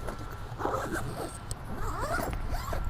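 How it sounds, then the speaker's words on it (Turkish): A zipper runs closed along the side of a water- and impact-resistant two-rifle equipment bag, giving a series of close, rasping zipping strokes that continue steadily throughout with no talking. "Yandan fermuarlarınızı kapatıyorsunuz."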